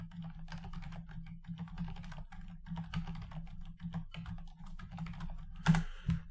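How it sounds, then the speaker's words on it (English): Close, steady typing on a computer keyboard while entering data into a spreadsheet, rapid light key clicks in uneven bursts with a couple of louder keystrokes near the end. "So I'll type those in there."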